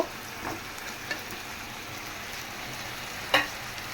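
Hilsa fish going into a hot pan of spiced curry base with garlic and dried chilli, giving a soft continuous sizzle with a brief louder hiss near the end, no voices.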